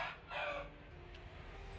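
A rooster crows outside, a faint, distant cock-a-doodle-doo with a couple of short bursts, heard through a quiet room with low background hum.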